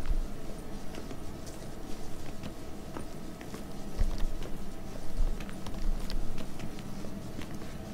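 Horse hooves clop and patter in The Witcher 3, an irregular stream of soft steps over a low ambient bed with no speech.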